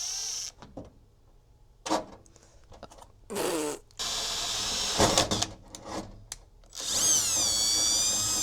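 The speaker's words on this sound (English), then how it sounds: "since we drilled holes, we actually want to protect it from rusting" Holes are drilled in the metal body of an EK Civic hatchback to mount a kill switch: several short power-drill bursts of varying length, separated by quiet pauses, with high whining tones in the later bursts.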